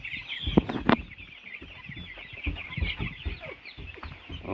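A pen of about a hundred young farm chickens clucks and chatters near and far, with several louder close clucks early and a steady background of murmuring and peeping, no talk.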